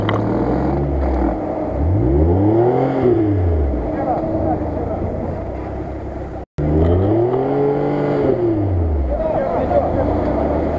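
Off-road vehicle stuck in deep mud, its engine revving hard in repeated rising and falling surges, loud and close, with one brief cut in the middle and voices nearby.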